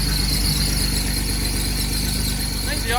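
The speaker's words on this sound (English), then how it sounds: "I think the alternator chirps a little bit." A 1984 Chevrolet S-10's alternator chirps as the engine runs: a thin, high squeal sits over the steady idle rumble, with a brief rising chirp near the end.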